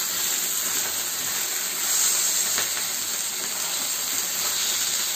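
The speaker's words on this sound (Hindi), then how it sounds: "अभी से दूसरी तरफ से भी फ्राई कर देनी है ताकि फिश अच्छे से फ्राई हो जाए" Papda fish fries in hot oil in a pan over a high gas flame, with a loud, continuous hissing sizzle that stays steady throughout.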